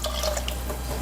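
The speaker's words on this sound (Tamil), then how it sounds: "தண்ணி சேர்த்துட்றேன்." Water is poured into sautéed masala for a hotel-style parotta salna, a brief soft trickle and splash in a cooking pot.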